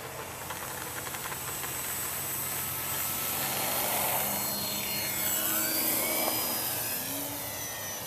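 A small electric model E-flite Hawker Hurricane airplane whines steadily and rises in pitch as it takes off, a broad buzzing drone holding at moderate loudness for several seconds.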